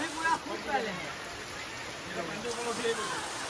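Rain falling outdoors at night near a prayer hall gate, a soft steady hiss of drops heard at moderate distance, with some faint talk in the background.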